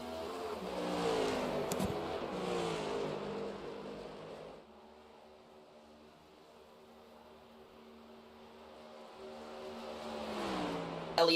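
A stock race car in a sim racing game pulls away from the pit box, its engine note rising and fading, dropping to a quieter hum midway before climbing again into louder revving near the end.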